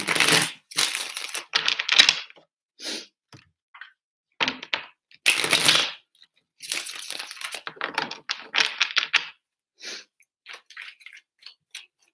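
Tarot cards are shuffled close up in a series of crisp, papery riffles and snaps, bursts of varying length separated by brief silences.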